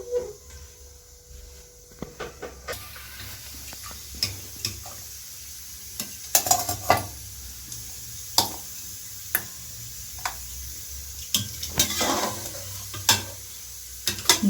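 Mutton curry being stirred in a pot, goat meat cooking with broad beans: scraping spoon strokes knock and rasp at irregular intervals over a low steady sizzle, fairly close, with no talk.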